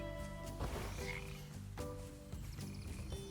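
Frogs croak in the video game Potions: A Curious Tale, a quick series of short, throaty croaks repeating every second or so at a soft level, with no voices.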